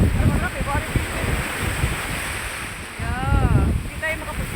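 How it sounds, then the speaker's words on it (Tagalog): Strong wind buffets the microphone on Boracay beach with surf rolling in behind, a steady broadband roar that swells near the end, while people talk and a voice rises intermittently over it. "malakas ang hangin"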